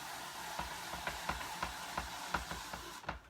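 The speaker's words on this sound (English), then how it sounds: "watch how fast you can slice your onion for your stir fry" Onion pushed through a handheld spiralizer's ribbon blade, giving a quick, even series of soft crisp slicing crunches, close and fairly quiet, ending with a brief scrape.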